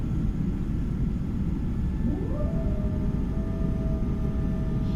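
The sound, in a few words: Boeing 777 wing flaps extending, Microsoft Flight Simulator 2024 video game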